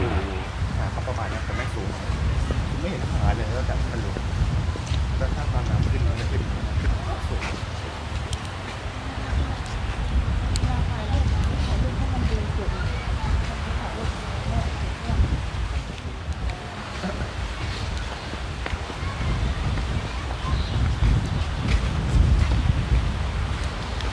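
Strong, cool wind blows steadily at a Hua Hin beach, a constant loud roar buffeting the microphone with broadband rushing and low rumble, likely mixed with surf, for the whole stretch without pause.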